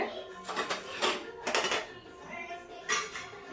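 Lid pressed onto a lunch container, a handful of sharp, close clacks and rattles of metal and plastic in uneven bursts, with faint talk in the background.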